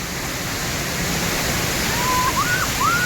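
A steady, full roar of a waterfall pouring off rock cliffs in Oregon fills the scene without a break, with a few faint whistling tones rising near the end.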